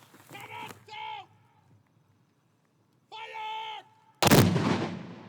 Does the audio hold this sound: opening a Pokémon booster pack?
no